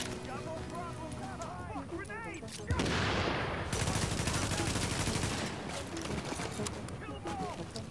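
Gunfire from the video game The Division breaks out as a dense burst of shots over background game sounds, with a player talking before and after the volley.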